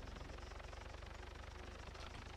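A helicopter flies overhead in the Arma 3 video game, its rotor beating in a steady, fast, even pulse that stays loud and constant throughout.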